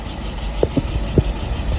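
A car engine idles at about 675 rpm with a low, steady rumble, punctuated by a few soft clicks and knocks, close by and without voices.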